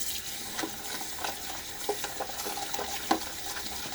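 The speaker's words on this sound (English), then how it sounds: "that's where I like to kind of work my brush and let it rinse my brush" A badger shaving brush swished and rinsed in water in a bowl, soft repeated splashing and squelching strokes at an uneven rhythm, close and unaccompanied by talk.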